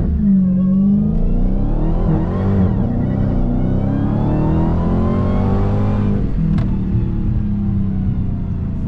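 The 2023 Dodge Challenger SRT "Black Ghost" accelerates hard. A loud, close engine roar rises steadily through the revs, with a brief gear-change dip near the end and no one talking.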